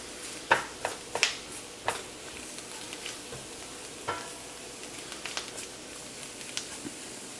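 Vegetables for chicken pot pie cooking in a pot, a low steady sizzle broken by irregular clacks and scrapes of a spoon stirring, close and fairly quiet.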